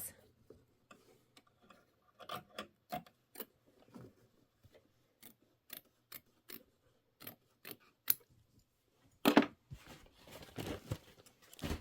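Scissors snip through fabric being trimmed for a quilted holiday pillow, a run of about a dozen sharp, evenly spaced cuts, close and crisp, followed by a denser rustle of handled cloth near the end.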